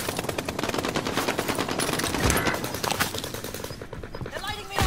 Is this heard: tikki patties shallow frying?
no